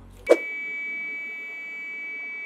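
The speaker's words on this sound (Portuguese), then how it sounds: "Eu quero ver agora se o motorista não ouve o sinal da parada." Inside a quiet electric city bus in Brazil, a stop request signal sounds as a short click with a sustained electronic tone, followed by another short click, over a low, calm cabin hum.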